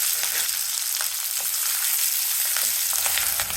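Onion fries in a tempering of mustard seeds and cumin, making a dense, even, close sizzle with faint crackles, steady and loud throughout, with no voices.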